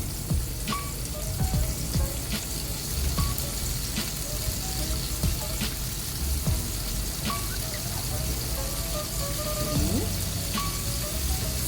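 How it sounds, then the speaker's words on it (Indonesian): Oil sizzles and crackles steadily as tofu fries, with scattered pops and faint kitchen clinks throughout. "Sambil di sebelah sedang menggoreng tahu."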